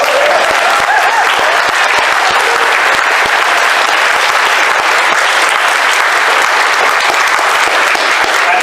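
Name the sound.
audience applause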